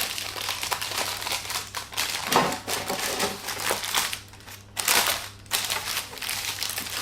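Baking paper is crumpled and crinkled by hand in a kitchen, a loud continuous rustling with sharper crackling bursts, close up and with no talking.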